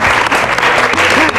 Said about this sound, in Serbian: veliki aplauz za Igora